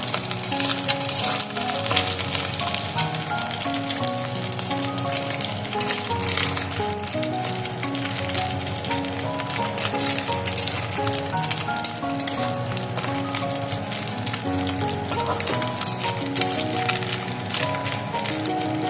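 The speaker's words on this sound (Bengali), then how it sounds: "এইভাবে আমি মাছগুলো ভেজে নিয়েছি" Small chuno fish fry in oil in a pan, a continuous crackling sizzle running steadily beneath music.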